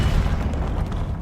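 The Incendio fire spell in a Harry Potter video game bursts out as a heavy, roaring boom of flame that starts loud and fades slowly over about a second, with no speech over it.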